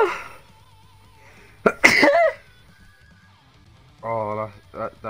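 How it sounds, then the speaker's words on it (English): A person playing a video game sneezes once, a sharp, loud burst close by that stands out from quiet background, and talking follows a moment later. "Oh, I'm gonna sneeze. I'm gonna sneeze."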